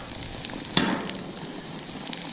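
Garlic in olive oil and butter sizzling on a hot Camp Chef 600 flat top griddle, a steady close hiss with faint crackles and one brief sharper pop, no talk.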